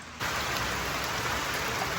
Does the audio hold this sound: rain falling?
yes